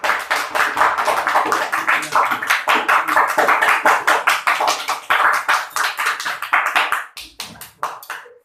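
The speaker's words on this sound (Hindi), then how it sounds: "इसे पुनः एक बार ताली बजा करके स्वागत" Students clapping together to welcome a prize winner at a school prize presentation, a dense, loud burst of close hand claps that runs steadily for about seven seconds before thinning out into a few last scattered claps.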